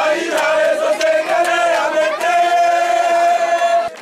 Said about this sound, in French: une foule en euphorie composée pour la plupart de jeunes scandant de chants en son honneur